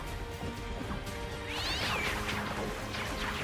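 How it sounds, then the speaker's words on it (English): A cat meows in the Code Vein II video game, a short rising call standing out briefly over steady game music and effects. "Why is it a cat?"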